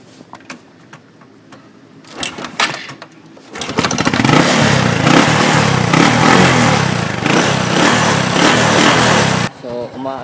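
A motorcycle kickstarted on a weak battery: a few mechanical clunks and cranking strokes, then the engine catches and idles loudly and steadily up close for several seconds before cutting off, with someone briefly talking nearby.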